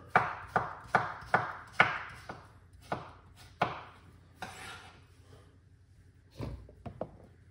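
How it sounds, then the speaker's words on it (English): A knife chops fresh cucumber on a cutting board for a green juice, a steady run of sharp, close knocks that slows and becomes sparser toward the end. "I'm gonna go into it with some cucumber."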